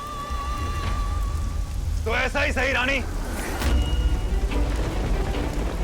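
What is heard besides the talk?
rain falling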